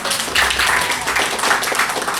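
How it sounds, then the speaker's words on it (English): A comedy show audience breaks into loud, dense applause for an opening act, with steady clapping that carries on through the whole moment. "Let's have a huge round of applause, please."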